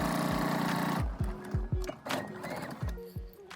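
A sewing machine runs a straight stitch along a lengthwise-folded fabric strip for a DIY crop top or scrunchie. A steady whirring hum gives way to a run of short mechanical stitching bursts with brief pauses, close up and alone.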